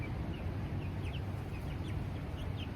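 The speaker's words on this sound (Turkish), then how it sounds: "Civcivlerimle muhabbet ediyorum." Faint high cheeps from small chicks sound repeatedly over a low rumbling background, soft and scattered.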